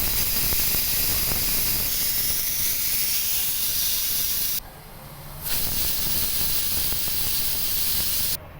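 A pressure cooker on the stove vents steam in a loud, continuous hiss, broken by a short lull midway before the hissing surges back and then cuts off at the very end.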